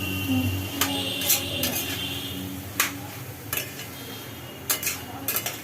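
Metal spoon stirring a curry of Malabar spinach with jaggery powder in a pot, with scattered clinks and scrapes against the pot rim over a low kitchen background.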